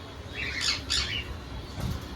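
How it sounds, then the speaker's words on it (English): A pair of wild masked African lovebirds in an aviary give two sharp, close squawks in quick succession, followed by a fainter third call, with no talking. "Here we have our wild mask African lovebirds,"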